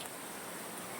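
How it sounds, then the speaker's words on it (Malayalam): Heavy rain falls in a soft, continuous hiss, steady and even throughout the brief moment. "ഭയങ്കര മഴയാണ്,"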